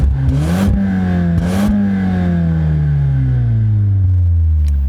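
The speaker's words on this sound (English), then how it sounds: "Let's take a listen and hear what the Golf R sounds like." A Volkswagen Golf R with quad exhaust pipes revs hard twice, its engine note rising and falling in loud, deep sweeps, then settling into a long, slowly dropping tone as the revs fall back toward idle.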